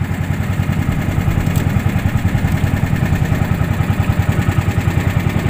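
Boat outboard motor chugging steadily on the river at Rammang-Rammang, Maros, South Sulawesi, a loud close rhythmic low throb with clattering that runs unbroken throughout.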